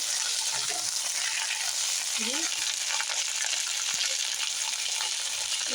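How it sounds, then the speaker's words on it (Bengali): Okra frying in a pan for a yogurt okra dish, cooked until reddish: a steady, loud, dense sizzle and hiss with occasional crackles and faint stirring, continuous throughout. "আমরাও লাল করে এরকম করে ভেজে নেব"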